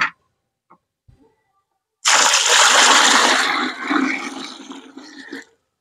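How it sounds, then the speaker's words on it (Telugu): Water is poured into a bucket of homemade kitchen-waste liquid fertilizer to dilute it, a close, loud splashing gush lasting about three seconds that eases off at the end. "ఇప్పుడు ఎంతైతే ఈ లిక్విడ్ ఫర్టిలైజర్ అనేది తయారైందో దానికి 3 ఇంచుల వరకు వాటర్ని తీసుకుంటున్నాను"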